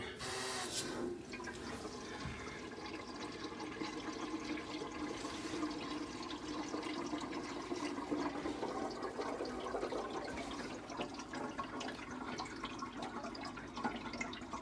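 Water rushes steadily through cheap, faulty filling valves into a leaking Baxi boiler, making a continuous hiss and gurgle after a brief louder burst at the start, with no voices.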